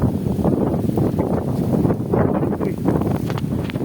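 Steady gusting wind buffets the microphone, a continuous low roar with rustling surges and no voices.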